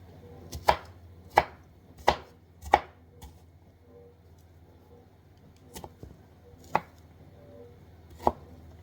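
Knife chopping ingredients for a spicy pork marinade on a cutting board: sharp, distinct strikes in an irregular rhythm, a quick run of four cuts, a pause, then a few scattered chops, close and clear over low background hum.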